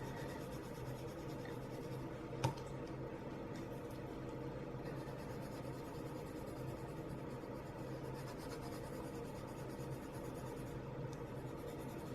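A Prismacolor colored pencil blending a dark-to-light gradient on paper, producing a faint, steady scratchy rubbing that runs continuously beneath a low background hum, with one tiny tap early on and no speech.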